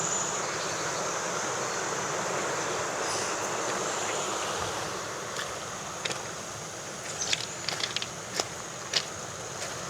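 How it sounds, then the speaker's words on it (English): Floodwater of a river rushing fast: a dense, constant roar that stays even throughout, with a few faint clicks and taps toward the end. "Water's moving pretty fast."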